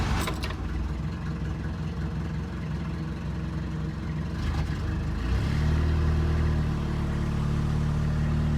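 A 1976 Toyota Chinook engine runs after a rough start, first sputtering unevenly, then settling into a steady, louder idle with a low throbbing hum close by, no talking over it.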